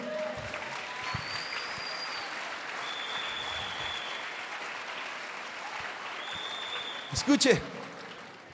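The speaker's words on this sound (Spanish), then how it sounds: "Alguien déle una ofrenda de palmas a Jesús" A church congregation claps in praise during a sermon, a soft, continuous patter of applause under amplified speech, ending in a louder burst of noise near the end.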